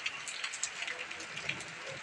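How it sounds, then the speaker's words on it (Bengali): Heavy rain pouring down at an e-rickshaw (toto) stand in Majdia, a dense steady hiss with scattered drop patters on surfaces, with voices talking faintly beneath. "খুব বৃষ্টি হচ্ছে আমাদের মাঝদিয়াতে, প্রচুর বৃষ্টি"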